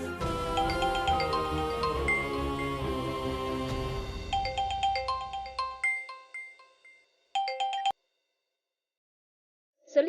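A phone rings with a bright, repeating electronic melody of chiming tones. It plays loudly for several seconds, then thins to sparse chimes and stops abruptly, followed by silence and a brief final blip.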